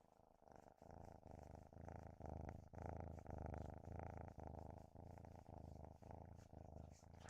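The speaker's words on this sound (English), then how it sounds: "Can you hear his little purrs? He's a little purr machine." A cat purrs steadily and close, its soft rhythmic rumble pulsing in even breaths with nothing else over it.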